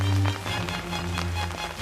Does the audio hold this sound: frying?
no